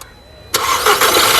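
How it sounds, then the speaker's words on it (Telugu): A 2012 or 2013 Skoda Superb starts in one go: quiet at first, then a sudden loud catch as the engine fires and holds a steady run, close and clear. "సింగిల్ సెల్ఫ్లో కార్ స్టార్ట్ అవుతుంది"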